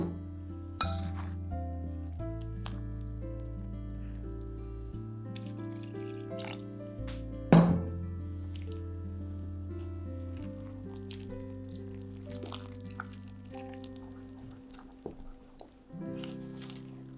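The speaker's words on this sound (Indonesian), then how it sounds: "Dan tuang air sikit-sikit. Bancuh pekat-pekat sampai hilang ketulan tepung." Water is poured in small amounts and stirred into thick flour batter with lime water for Malaysian banana fritters, giving soft wet squishing and occasional clinks of utensil on bowl at close range.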